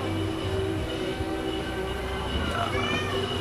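Creaking in an old building carries a drawn-out, meow-like whine over a steady low rumble and hum, continuous and fairly close, with no talking.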